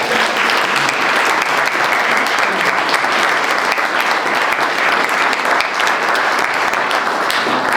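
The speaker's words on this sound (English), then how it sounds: "Let's have a round of applause for the committee who did so much work" A town council audience gives the committee a round of applause, a loud, dense and steady wash of clapping from many hands that holds evenly from start to finish.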